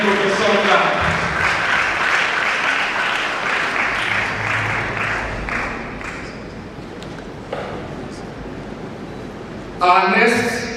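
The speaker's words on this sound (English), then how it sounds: "Please give him a resounding academic professor clap." Applause from the audience at a Nigerian Bar Association Benin branch law week event, honouring a professor. It fills most of the clip as a steady, fairly loud spread of clapping, with voices over it and a sudden louder burst near the end.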